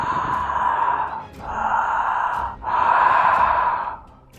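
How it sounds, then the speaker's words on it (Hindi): Breathing effect for Granny in a horror story: three long, heavy, sighing breaths in a row, close and fairly loud, each with a short pause between. "ग्रैनी की सांसों की आवाज़ें उनके कानों तक आ रही थी।"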